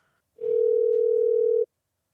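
A telephone dial tone, one steady continuous hum lasting about a second, clear and alone, ending abruptly.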